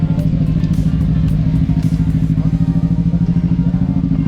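Motorcycle engines idle and rumble loudly at a bike meetup ride in Pune, a steady low throbbing drone with light clatter throughout, no voices.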